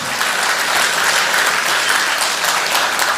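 Loud, dense audience applause at a Tamil comedic speech event, many people clapping continuously and evenly from start to finish with no voices heard.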